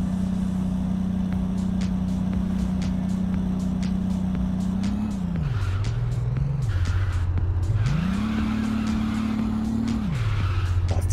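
A car in the video game Big Ambitions drives with a steady, droning engine that dips and rises as it slows and speeds up, while tires skid and squeal in bursts throughout.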